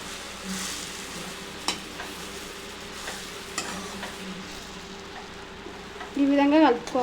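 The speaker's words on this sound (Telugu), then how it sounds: "ఇదంతా వీటికి పట్టేటట్టు, బురుగులకు పట్టేటట్టు మంచిగా కలపాలి." A puffed rice uggani mixture is stirred in a pan, making a soft, steady scraping and sizzling with a few spoon knocks. A louder clatter comes near the end.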